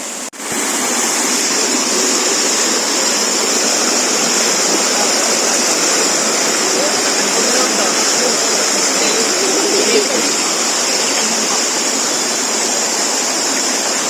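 A mountain river in the Philippines rushes loudly and steadily, like a nearby stream or small falls, with an unbroken wash of water noise and a brief thump at the start.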